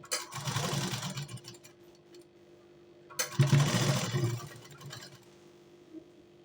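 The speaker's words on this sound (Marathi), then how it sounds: "त्याच्यासाठी एक मध्ये शिलाई मारून मी घेणार आहे" Sewing machine stitching a sleeve for a blouse, in two loud bursts of rapid whirring stitches separated by a pause, the motor humming close by with no talk.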